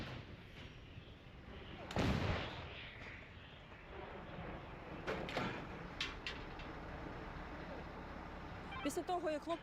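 A Bogdana self-propelled howitzer fires once with a loud, sharp boom, followed by rumbling and clanking as the crew works around the gun, with a voice speaking later.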